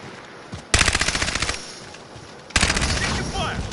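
Two bursts of rapid automatic gunfire in a Call of Duty team deathmatch, one after a short pause, loud and close with game ambience between.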